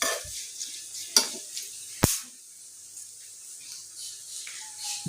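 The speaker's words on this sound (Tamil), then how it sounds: "சூடான எண்ணெய் போட்டிங்கன்னா இந்த கருவேப்பிலை வந்து நல்லா ஃப்ரை ஆகிடும்" Curry leaves and dried red chillies frying in hot oil, a soft crackling sizzle punctuated by a few sharp spatters and stirring clinks, quiet and close.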